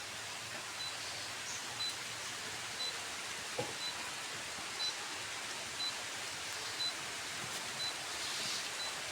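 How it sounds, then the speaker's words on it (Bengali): Rain falls steadily outdoors in a broad, even hiss with faint scattered ticks and no speech. "এই বৃষ্টি নামে গেছে।"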